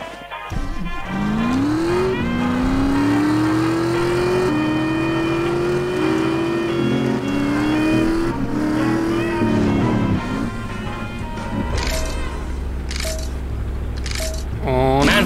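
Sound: race cars starting a race in video game The Saboteur

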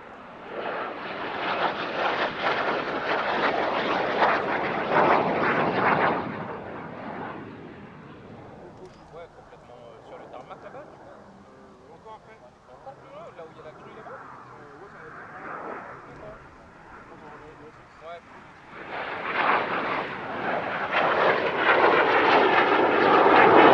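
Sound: Canadair Sabre jet fighter flying at an airshow

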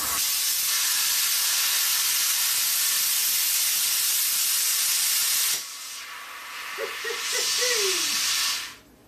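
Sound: plasma cutter cutting off an old weld on steel

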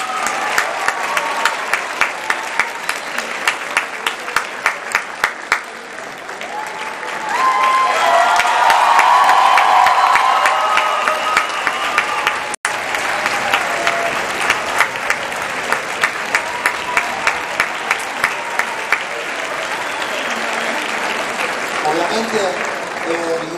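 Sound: theatre audience applause for the conductor and director

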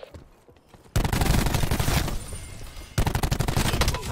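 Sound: gunfire in video game Gunship

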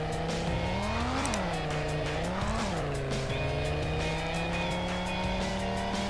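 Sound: car drifting with tire squeal on flat ground in Garry's Mod video game

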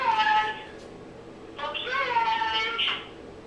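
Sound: cat meowing

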